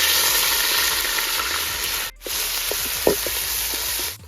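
Crushed onions drop into hot oil for an old-style country chicken curry and fry with a loud, steady hiss and sizzle. The sizzle cuts out briefly midway as small pops and spatters crackle close by, with no voices.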